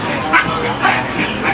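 A big dog gives a few close, loud barks and yips in quick succession, with a person talking over them.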